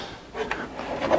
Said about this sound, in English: Opening the fifth drawer